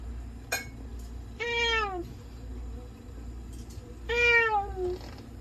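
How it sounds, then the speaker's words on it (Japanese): A Japanese cat meows twice during inhalation and oxygen therapy, each call long and drawn out with a falling pitch, heard close over a steady low mechanical hum. "日本猫なっちゃんの吸入療法と酸素療法の治療の様子です"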